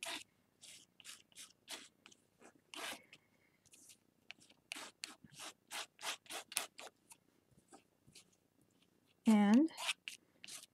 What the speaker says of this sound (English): I'm going to scrape it on